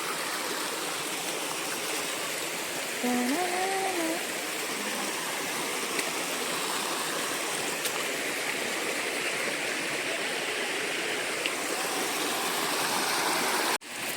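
A clear village water channel beside a well in the Konkan flows nearby with a steady, even rush, and a brief faint tonal call rises above it partway through.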